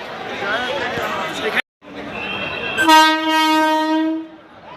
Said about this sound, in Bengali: বর্ধমান স্টেশনে আস্থা স্পেশাল ঢুকছে আমরা এই ট্রেনে যাব